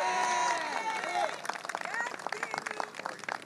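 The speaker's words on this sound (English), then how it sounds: "Let's have a big round of applause for Danny Barber." An audience at a public housing investment announcement applauds Danny Barber, clapping under lively voices and cheering that dominate at first, then scattered claps come through.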